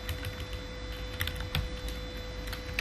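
Steady, close-up typing of HTML code on a computer keyboard, a continuous run of quick key clicks with a few louder, sharper strikes and no talking.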